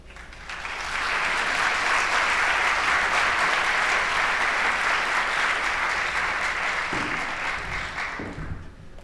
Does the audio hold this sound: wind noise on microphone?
no